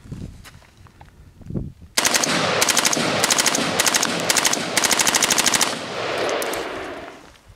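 An M4 rifle fires on full auto outdoors, several loud, sharp bursts of rapid gunfire in quick succession with brief pauses between strings, preceded by quieter handling noise.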